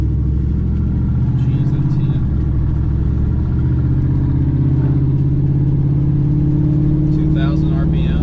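A cammed, lifted 2006 GMC Sierra truck with true dual exhaust revs loudly up close, its deep rumbling idle swelling and rising in pitch. Someone speaks briefly over the engine.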